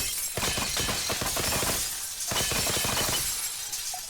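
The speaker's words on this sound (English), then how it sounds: "whenever I've been up here and I've heard the glass go" Glass shatters repeatedly in quick crashing bursts, loud and dense, with tinkling shards between impacts and no voices.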